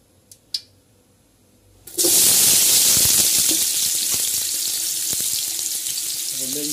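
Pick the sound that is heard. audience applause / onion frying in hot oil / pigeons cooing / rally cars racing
onion frying in hot oil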